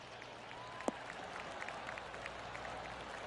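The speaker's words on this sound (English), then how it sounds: "golf clap" Faint, sparse golf clap from a small crowd on a golf course, soft scattered claps with one sharper clap early, quiet and distant.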